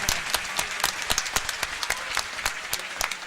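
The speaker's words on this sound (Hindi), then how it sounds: "दोनों हाथ उठाकर जोरदार तालियों के साथ स्वामी जी का अभिवादन करें आप।" Audience applause at a yajnashala and goshala inauguration ceremony at a Veda temple in Mathura, a steady dense clapping from a crowd, loud and close, with sharper individual claps standing out through the roar.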